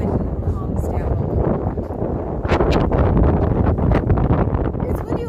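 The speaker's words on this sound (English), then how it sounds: "We can hear the wind." Gusting outdoor wind buffets a lavalier microphone, a loud continuous low rumble with bursts of crackly distortion, and a person talks beneath it.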